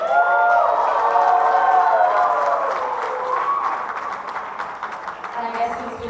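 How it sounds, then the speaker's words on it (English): Wedding reception guests applaud the bride in a sustained wave of crowd clapping that starts strong and slowly fades, with voices murmuring underneath. "I will take that applause as well"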